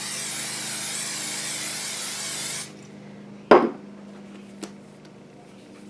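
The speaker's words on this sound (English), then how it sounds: "I'm going to spray it real good." A continuous hissing spray of cooking oil into a large bowl runs for nearly three seconds, then stops, followed by a sharp knock and a couple of light clicks.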